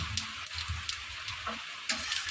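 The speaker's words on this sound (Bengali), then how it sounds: "এবার আমি ফোড়নের জন্য দিয়ে দিলাম তেজপাতা আর গোটা গরম মশলা, দিয়ে দিলাম জিরে" Bay leaf, whole garam masala and cumin sizzling in hot oil, a steady bright crackle with a few louder pops, close and continuous, no voices.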